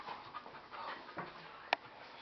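Close, soft rhythmic panting from a dog, quick breaths running under faint background noise, with one sharp brief sound near the end.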